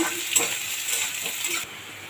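Onions frying in a pan for dal fry, a steady close hiss and sizzle with light stirring, easing slightly toward the end.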